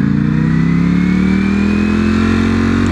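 Ferrari engine revving hard while accelerating, a loud, steady rising roar with climbing pitch that fills the whole moment close up.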